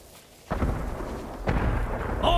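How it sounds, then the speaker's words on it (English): Fireworks set off as weapons on the battlefields of Iki Island in Ghost of Tsushima land as two heavy booming blasts, each followed by rumbling decay, with a faint sizzle at the end. "More fireworks! On all sides!"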